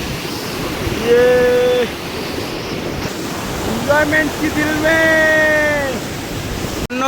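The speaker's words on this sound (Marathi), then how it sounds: "समोर हा वॉटरफॉल आहे." Heavy rushing water from the flooded Subhedar waterfall pours as a constant loud roar beneath people shouting and chanting over it.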